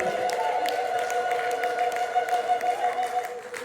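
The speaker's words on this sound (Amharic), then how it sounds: "እልልታ ጭብጨባ ለእሱ ይሁን" A church congregation at a Sunday morning service claps and cheers together in a steady, sustained wash of sound that fills the whole stretch.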